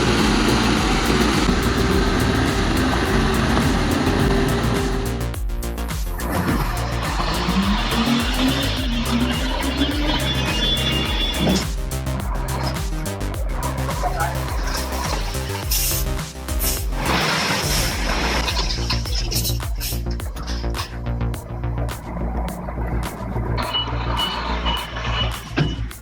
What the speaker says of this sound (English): The huge truck roared